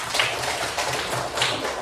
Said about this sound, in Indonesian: Tepuk tangan dulu buat Angel pertanyaannya